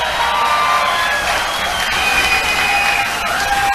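Large outdoor political rally crowd in Salt Lake City, Utah, roaring with loud sustained cheers, whoops and applause that fill the space continuously without a break.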